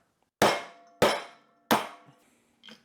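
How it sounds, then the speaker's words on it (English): Three hard, ringing hammer blows drive an oval center cutout die through material in slow, even succession, each fading quickly, followed by a faint scrape. "then we just hammer it through"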